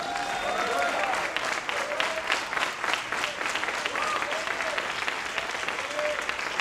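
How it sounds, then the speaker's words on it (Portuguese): Sustained applause from a church congregation during an Easter sermon, dense and continuous for several seconds, with a voice faintly audible over the clapping. "Aplauda o Senhor Jesus."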